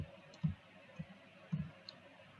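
A computer mouse clicking while working in Lumion software, three soft separate clicks spaced about half a second apart, close and faint, with no talk.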